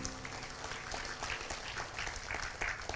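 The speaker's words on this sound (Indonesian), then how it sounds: "beri aplaus dulu buat kawan kita berdua." Dense, sustained applause from an audience at an Islamic religious talk, many hands clapping close and steady throughout.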